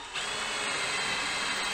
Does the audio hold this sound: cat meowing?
no